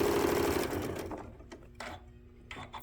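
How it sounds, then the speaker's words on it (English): Sewing machine stitching a final quilt border seam, a steady close whir of rapid stitching that slows and stops about halfway, followed by a few short stitch bursts and faint handling noises, no talk. "I'll back stitch at the end because this again is the last seam of this side of the quilt"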